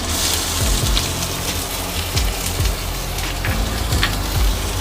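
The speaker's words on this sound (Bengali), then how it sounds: "দেখো পেঁয়াজগুলো আমি কাটছি" Knife chopping onions on a wooden board for a Bengali chicken curry, with steady repeated cuts over a constant background hiss, near and fairly loud, no talk.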